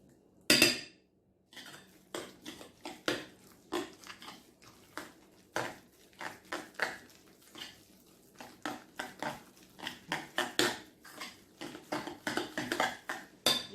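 A spoon mixing a tuna and potato filling in a bowl, with irregular clinks and scrapes against the bowl, fairly close and moderately quiet, with no talking.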